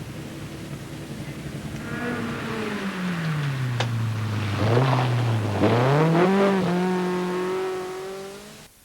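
Rally cars from the 1986 Lombard RAC Rally pull into the overnight parc fermé in Harrogate, engines droning and revving with rising and falling pitch, several cars close by and loud, with no talk.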